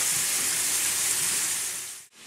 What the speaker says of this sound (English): now that the bacon is rendering